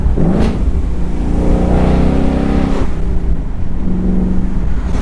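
A 2019 Mustang GT with active exhaust idles and rumbles loudly up close, then gives quick throttle blips that rise in pitch and fall back, all heard alone without talk.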